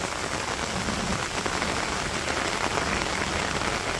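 Steady rain falls on a Bangladeshi village during the rainy season, a dense continuous patter of drops on surfaces close by, even and unbroken throughout with no voices.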